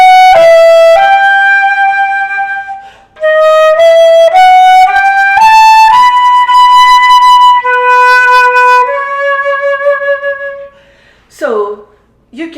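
A solo flute plays Massenet's Meditation in a detached style, each note clearly separated with short gaps. The passage is close and bright and ends with a brief breathy sound.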